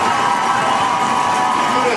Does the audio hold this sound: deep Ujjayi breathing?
no